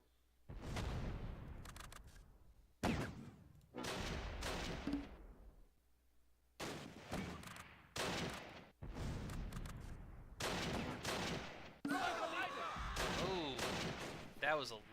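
Mortar rounds and gunfire in the Close Combat: Last Stand Arnhem video game, a series of sharp blasts with decaying tails separated by short silences, with a voice speaking between some of them.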